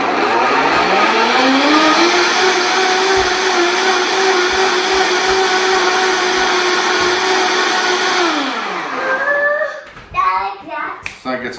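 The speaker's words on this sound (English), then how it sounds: "we'll just go ahead and give this a quick blend" A blender whirs through spinach and water, starting with a rising whine, holding a loud steady motor drone for several seconds, then winding down, followed by clinks and handling noises.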